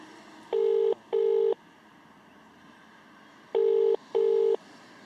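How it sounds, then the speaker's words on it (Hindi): A ringback tone sounds in two pairs of electronic beeps, each pair two short bursts close together, with a pause between pairs over faint background hiss. "देखिए फोन बज रहा है।"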